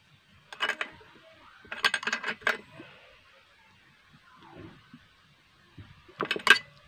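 Metallic ticks and clicks come from tightening a part on a Stihl mini chainsaw that will not start, arriving in short close clusters separated by near silence.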